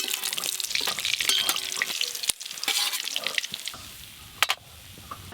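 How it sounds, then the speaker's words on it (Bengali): Goldfish fry in mustard oil until deep red. A busy sizzle runs under clattering stirs and turns, with a couple of sharp scrapes, and it quietens toward the end. "মাছগুলো একদম লাল লাল করে ভাজা হয়ে গেছে"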